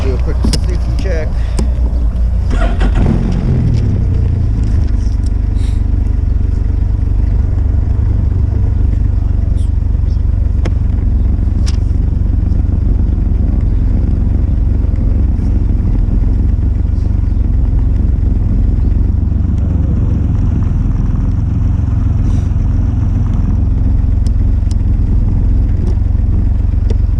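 A Can-Am Ryker engine runs steadily after starting, a loud continuous low rumble with some clatter at the start and voices talking over it.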